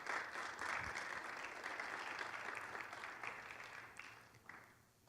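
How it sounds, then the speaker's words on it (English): Audience applause at a leadership talk, a steady wash of many hands clapping that holds for several seconds before tapering off slightly, fairly distant and without speech. "Give Steve a round of applause, everybody."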